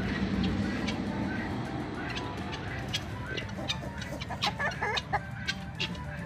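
Chickens and several roosters clucking while dust-bathing in a sand pool give scattered short clucks, sparse at first and thickening toward the end, heard at moderate distance over a low background rumble.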